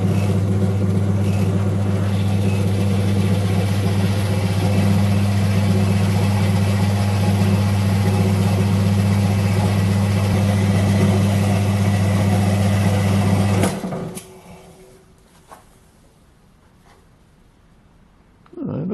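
A lathe spins a home-cast aluminium part with a steady, loud motor hum and whine for about fourteen seconds, then winds down and cuts out, leaving near silence with a faint click before noise returns at the end.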